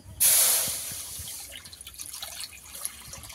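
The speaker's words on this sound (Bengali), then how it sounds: "একটা কড়া বসিয়ে দিয়েছি, একটু জল দিয়ে দেব।" Water being poured from a tap or jug into a kadai set up for steaming egg curry, a bright splashing gush at the start that settles into softer trickling and drips, close by and with no talking.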